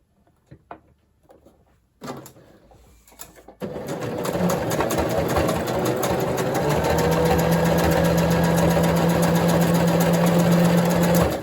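After a few seconds of quiet handling and clicks, a sewing machine stitching scrunchies with white thread starts up and runs in a loud, continuous, rapid whir to the end.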